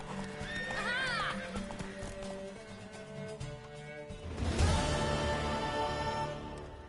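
A horse in The Witcher 3 whinnies loudly near the start, then hooves clip-clop and gallop with a rising rush of movement, set against game music and ambient sound.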